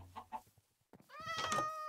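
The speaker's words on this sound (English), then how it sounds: "Right, kitty cats. Ooh, there's an orange one." Minecraft cat meowing in the video game, a couple of short mews followed by a louder, drawn-out harmonic meow that stands alone and close, with no talk over it.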